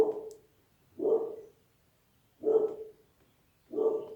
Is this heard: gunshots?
no